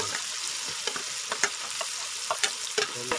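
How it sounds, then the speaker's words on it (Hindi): Onions and garlic frying in oil for chicken karahi, a steady soft sizzle broken by repeated sharp scrapes and clinks as a spoon stirs the pan, close up with no talking. "प्याज जब तक लाइट ब्राउन ना हो जाए तब तक हम इसे भूनते रहेंगे।"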